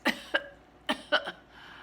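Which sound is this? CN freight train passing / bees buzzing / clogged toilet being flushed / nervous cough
nervous cough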